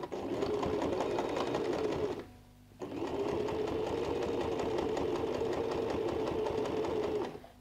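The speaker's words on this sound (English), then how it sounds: "Now sew, and then go and finish with the back stitch." A sewing machine stitches steadily, pausing briefly near the two-second mark before resuming its fast, even mechanical whirr, close and consistent with no talking.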